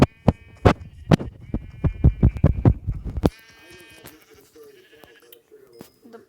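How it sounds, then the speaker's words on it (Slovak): Sheep bleat repeatedly in a game-like scene, several loud, close calls in quick succession during the first half before fading to a quieter, tonal background. "ďalšia ovca"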